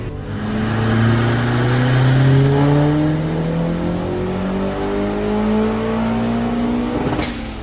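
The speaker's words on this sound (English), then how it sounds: "I took it to the dyno one last time just to get a baseline before my next event." Mazda Miata engine revving up on a dyno after fresh coils and a rebuilt head, one long steady climb in pitch lasting several seconds, loud and close, ending with a sharp cut as the throttle closes.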